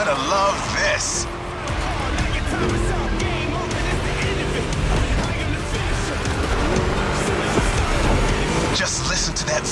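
A V8 muscle car engine in The Crew Motorfest racing game roars steadily and loudly throughout, with gear changes and tire noise while the car races laps on a track.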